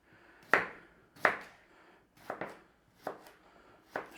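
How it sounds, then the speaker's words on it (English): A knife slicing skin-on vegetables about half a centimetre thick for a traditional Romany stew, five or six sharp, close chops against a board at an unhurried, uneven pace. "we are just going to slice them about 1/2 centimetre thick"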